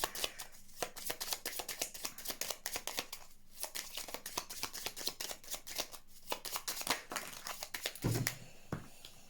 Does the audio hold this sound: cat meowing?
no